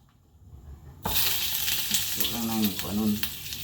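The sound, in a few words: crab frying in butter and oil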